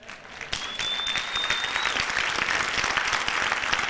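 A church congregation applauds at a sermon, a dense, sustained round of clapping from many hands that fills the room evenly, with a brief whistle early on.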